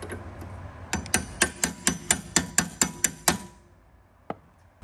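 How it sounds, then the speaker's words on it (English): A bearing is tapped into a spreader axle using a 15/16 socket, producing about ten sharp, evenly spaced metallic strikes close up, then one isolated tap after a pause. "15/16 socket helps you tap in the bearing."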